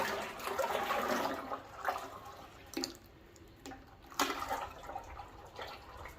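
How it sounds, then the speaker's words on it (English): Liquid pours from one bucket into another, a soft sloshing gush followed by intermittent splashes and drips, faint and close with no talk. "So I took a bucket, poured half the bucket into another bucket"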